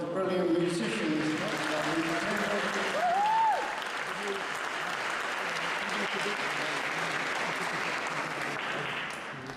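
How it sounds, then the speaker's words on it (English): A town hall audience at a diversity awards night gives a round of applause for the musicians, a broad wash of clapping that holds steady, with a brief voice near the start, then slowly tapers at the end. "Can we just have another round of applause for the brilliant musicians?"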